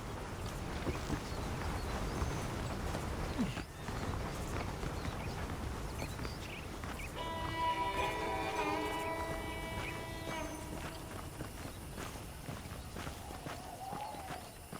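Horses in the video game Red Dead Redemption clip-clop steadily at a walk, with hoofbeats running throughout under outdoor ambience and a brief musical tone partway through.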